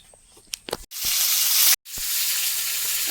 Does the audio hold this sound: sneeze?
no